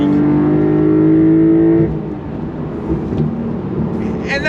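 A 2024 Porsche 911 Carrera T's low-mounted flat-six engine pulls hard under throttle, a loud rising harmonic growl that breaks off into a rushing, rumbling drone as the car drives on.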